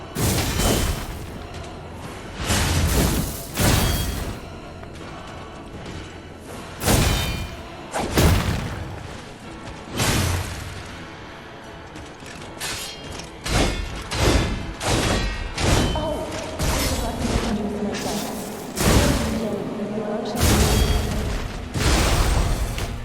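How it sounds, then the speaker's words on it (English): Repeated heavy booms and blasts from the final boss fight against the Nameless Puppet in Lies of P, bursting every few seconds over a busy layer of game music and effects. "I always forget about the bitch ass explosions."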